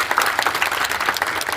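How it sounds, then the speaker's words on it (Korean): Audience applause at a book concert in Hanla Art Hall at Jeju Halla University: a steady, fairly loud patter of many hands clapping throughout. "박수를 부탁드리겠습니다"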